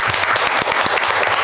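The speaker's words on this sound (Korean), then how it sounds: "박수 한번." Audience applause fills a library construction debate forum, a dense, steady patter of many hands clapping close by for the full moment.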